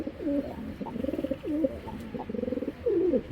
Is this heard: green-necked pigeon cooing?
yes